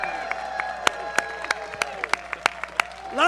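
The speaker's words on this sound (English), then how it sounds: "can we just give it a cheer for the first in-person service of 15 months?" Crowd at an outdoor Shabbat service under the stars clapping, sharp scattered claps over a steady tonal background, with a rising swell of cheering at the very end.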